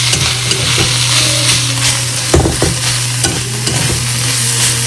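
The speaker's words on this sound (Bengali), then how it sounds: "চিকেন গুলোকে জাস্ট ভেজে নেবো" Boneless chicken frying in a little oil in a home kitchen, a close, loud steady sizzle with a low hum beneath and a few scraping stirring strokes, no voices.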